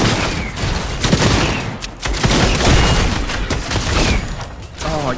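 Heavy gunfire rages in the video game Fortnite, a dense, loud barrage of overlapping shots and booms with brief lulls.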